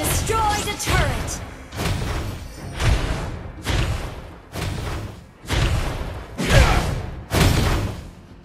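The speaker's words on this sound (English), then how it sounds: "destroyed a turret!" Turret destruction in the Mobile Legends mobile game, heard as a series of about eight heavy booming thuds at a steady rhythm, each burst loud and broad, overlapping game effects with no talk.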